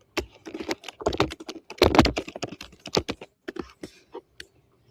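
Loud, fast typing on a computer keyboard, a close and dense clatter of sharp key strikes that thins out and stops near the end.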